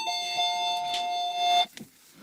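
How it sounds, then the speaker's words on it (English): A two-tone electronic chime sounds close by, holding a steady pitch before cutting off, followed by a brief rustle. "There's the doorbell."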